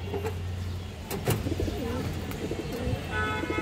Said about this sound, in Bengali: হাই কোয়ালিটির একদম পুরানা লাইনের একটা হারিকেন মাদি কবুতর আছে দর্শক, একদম র ব্লাডের কবুতর